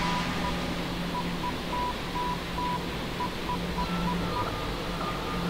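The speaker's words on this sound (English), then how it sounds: "That was Morse code." Morse code signal beeping in the video game Conarium, short evenly spaced tones in an irregular on-off pattern, fairly loud over a steady droning background, with no voices.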